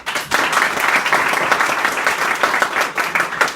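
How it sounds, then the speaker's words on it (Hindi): Students in a secondary school classroom clap together, a loud, close, continuous burst of many hands that runs unbroken for several seconds without talking over it. "प्लीज बैठो, ताली बजाने के लिए"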